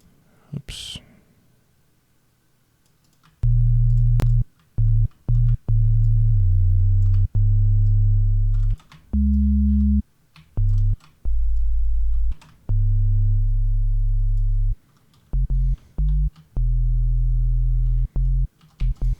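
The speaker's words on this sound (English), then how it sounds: "serum sine wave like this. And what I'm going to do is I'm going to get another harmonic as well. So I'm basically going to generate a sub." Sub bass sine tones generated in a Serum synth play as loud, deep, sustained notes in choppy bursts, with pitch shifts between notes and short gaps of quiet between them.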